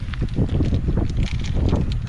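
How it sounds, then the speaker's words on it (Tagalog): Wind blowing steadily across an open outdoor spot at Caliraya, a continuous low rumbling buffet of gusts against the microphone with no talking over it. "Ang hangin!"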